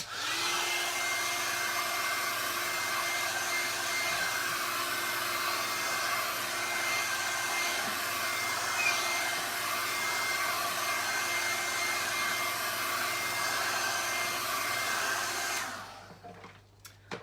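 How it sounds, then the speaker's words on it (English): A hair dryer blows in a steady, loud whoosh with a constant hum for most of the time, then cuts off abruptly near the end. "hit this with a hairdryer again"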